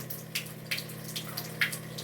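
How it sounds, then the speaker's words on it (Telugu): Pump of an Enagic Kangen water device running during a cleaning drain, a low steady hum with water gushing and trickling over it, punctuated by a few soft splashes, fairly quiet and close. "పంపు మాత్రమే ఆన్ చేశాను, డ్రైన్ అయిపోతుంది"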